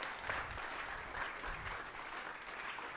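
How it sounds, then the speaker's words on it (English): An audience at a Calgary Summit pitch night applauds, a soft, even wash of clapping heard from a distance. "So big round of applause"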